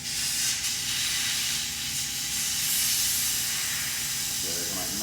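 Air hissing steadily out of a Kaabo Wolf Warrior 11 scooter tire with the valve core removed, a loud, continuous close-up hiss lasting the whole stretch, briefly under speech.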